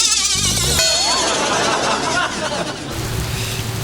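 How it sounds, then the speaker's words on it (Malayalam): Heavy rain falling, a constant loud broadband hiss that holds through the whole stretch, with a brief musical tone near the start and lower rumble toward the end. "എന്തൊരു ചീഞ്ഞ മഴയാണിത്."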